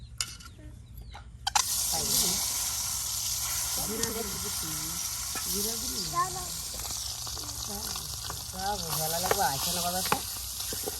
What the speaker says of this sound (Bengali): ডিমগুলো জিরা দিয়ে তেলের সাথে যে ভেজে নেওয়া হচ্ছে